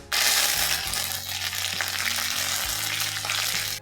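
Cumin, mustard seeds, dried chillies and curry leaves sizzle loudly in hot oil with a bright, continuous crackling hiss, close by over a low steady hum, no voices.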